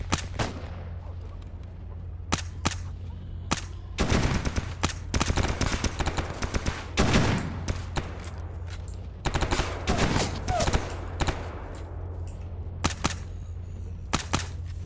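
Automatic gunfire with armor-piercing rounds in the Escape From Pripyat shooter game, bursts of rapid shots repeating throughout with sharp reports, loud and close, over a steady low hum.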